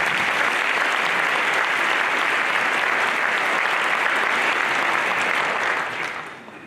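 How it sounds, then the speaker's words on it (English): Full, loud audience applause at a school future freshman night, a thick steady roar of clapping that holds for several seconds before tapering off at the end. "a big round of applause for all our professional leaders who work so hard"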